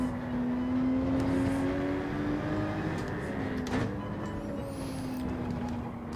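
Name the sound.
race cars passing in Gran Turismo 7 video game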